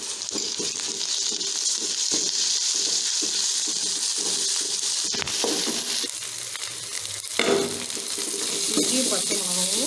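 Ginger and green chillies sautéing in oil in a pan for a vegetable kurma, giving a steady close sizzle with light stirring scrapes throughout.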